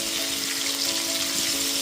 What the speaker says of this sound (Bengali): তারপর গ্যাসের ফ্লেমটা মিডিয়ামে করে আলুগুলোকে লাল করে ভেজে নেব।